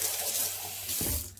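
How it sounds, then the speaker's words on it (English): Hot water pours steadily from a tap in a brief close-up gush, with a splash change near the end as the stream hits something. "I'm using hot water."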